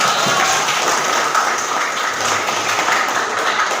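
A vocational school class applauds the first group after a narrative-text presentation: a dense, steady clapping from many hands filling the room for several seconds, close and loud, with no speech.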